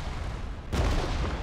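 Artillery bombardment from the black zone in PUBG, a broadband boom that hits suddenly and lingers as a loud, rumbling wash of distant explosions.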